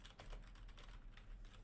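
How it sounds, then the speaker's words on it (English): Quiet, rapid clicking of keys on a computer keyboard, an uneven stream of soft taps close to the microphone with a low hum beneath. "you guys see what I'm typing"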